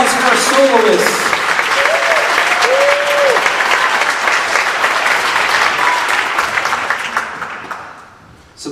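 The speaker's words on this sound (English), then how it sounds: "Another round of applause for our soloists." An audience applauds jazz band soloists at a spring school concert, a steady, full burst of clapping that holds for several seconds, then thins out and fades near the end, with a few raised voices mixed in.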